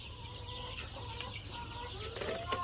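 Chickens cluck on a farm, soft and steady over a low background hum, with a few sharper calls near the end.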